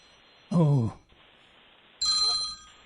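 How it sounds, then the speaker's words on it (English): A telephone rings with two loud electronic bursts separated by a pause, with a voice speaking briefly just before the first one, over quiet background hiss. "Is that a telephone ringing?"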